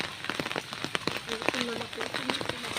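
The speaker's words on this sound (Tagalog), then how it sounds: "Maulan dito sa amin" Rain falling on a surface at a home in the countryside, a soft patter of drops with faint scattered taps, while a person talks quietly over it.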